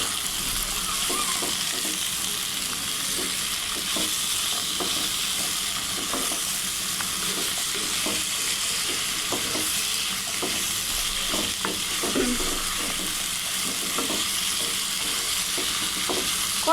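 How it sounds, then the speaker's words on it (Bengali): Vegetables, including bitter gourd, fry in oil in a pan. A steady, close sizzle runs throughout, broken by regular scraping stirs of a utensil, with no one talking. "আমি এখন সবজিগুলো দিয়ে দিই, তেলে ভাজা ভাজা হবে এগুলো"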